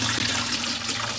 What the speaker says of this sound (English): As the water flows, Jennifer rejoices.